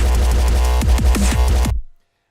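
Electronic music drop built during a livestream session: dense, loud synth and heavy bass with pulsing hits and pitch-dropping sweeps over about two seconds, cutting off abruptly.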